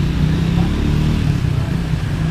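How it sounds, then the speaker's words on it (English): A loud motorbike engine rumbles close by on a street in Thailand, a continuous low droning roar with no voices over it. "It's a loud motorbike, sorry."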